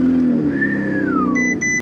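A Ferrari 488 Pista engine fires up and settles into a loud, deep idle close by, with a brief whine sweeping down during the start and a small rise in the last moments.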